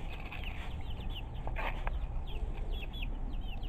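Backyard chickens raised at home cluck and chatter in short, repeated calls over a steady outdoor background hiss, with no talking.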